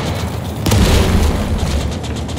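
A mortar round bursts in the Call To Arms - Gates of Hell battlefield, a single loud, deep boom with a sustained low rumble rolling on beneath steady battle noise.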